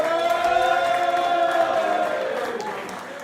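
Applause and cheering from the audience at a comedy night at the New Avenue Social Club, a close burst of clapping and whoops that fades gradually, with a sustained tone ringing beneath it.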